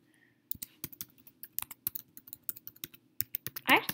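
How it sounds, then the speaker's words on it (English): A password is typed on a computer keyboard in quick, irregular clicks, close and fairly quiet, with a brief bit of voice near the end. "Oh man, I typed in the wrong password."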